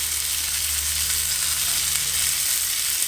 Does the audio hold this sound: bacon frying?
yes